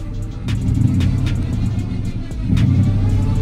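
A car with a whining transmission driving along, giving a steady, close engine rumble that swells as it speeds up near the end, with no one talking.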